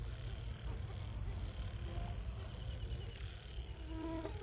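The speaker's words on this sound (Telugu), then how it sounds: "దోమలు తెగ గుట్టేస్తున్నాయండి" Mosquitoes swarm beside a pond at a solo fishing campsite, making a steady, thin, high buzz that runs unbroken at low volume alongside a chorus of other insects.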